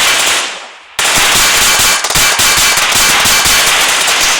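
Rapid bursts of video game gunfire crack loudly and continuously after a brief dip, with sharp repeated shots like automatic weapon fire filling the scene.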